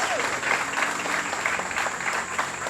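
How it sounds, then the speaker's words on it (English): An audience at an evening reception applauds steadily in a hall, a dense continuous wash of clapping held at moderate level throughout. "Please keep a round of applause going for her."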